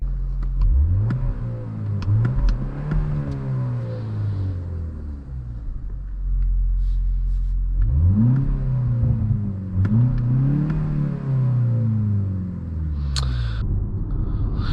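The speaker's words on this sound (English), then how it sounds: "But now let's go take this thing on the drive." 2024 BMW X2 M35i hot hatch driven and accelerating, its engine rising in pitch through gears with a steady road rumble, loud and close from the cabin, with two clear acceleration pulls.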